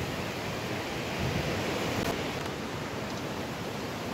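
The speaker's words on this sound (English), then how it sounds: "That wind is really blowing now." Strong wind blowing outdoors, a dense, steady roar buffeting the microphone, loud and constant without gaps or voices.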